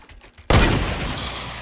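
A sudden loud burst of game gunfire in Fortnite breaks in after a quiet moment, with a dense crackling rattle that decays over about a second.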